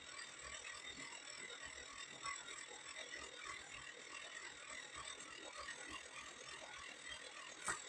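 A small yarn winder winds a ball of wool at low speed, producing a quiet, continuous clicking and gear-like whir with a faint rhythmic rattle and a small knock near the end.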